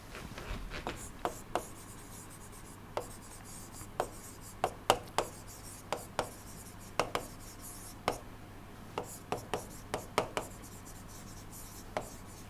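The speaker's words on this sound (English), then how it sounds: "so let me write here" Chalk or pen writing on a board during an engineering lecture on impulse steam turbines, with about a dozen short, sharp strokes and taps spread irregularly over the clip against a quiet room background.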